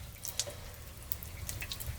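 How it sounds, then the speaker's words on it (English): Faint, scattered drips and light trickling as water slowly drains from a clogged sink, with soft irregular plinks over a low background hum and no talking. "If you listen, you can hear the water trickle as it slowly drains there."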